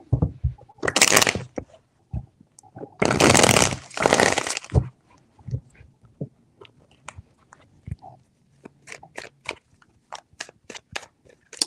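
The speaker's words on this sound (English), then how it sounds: "Three shuffles." A deck of tarot cards is shuffled close up in a few loud riffling bursts, followed by sharp taps and clicks as the cards are squared and handled.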